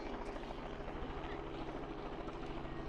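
A helicopter's steady, rumbling rotor drone fills the whole stretch, loud and close, during rhino ear-notching work, with no one speaking.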